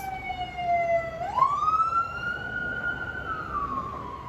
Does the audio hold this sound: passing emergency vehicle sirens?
yes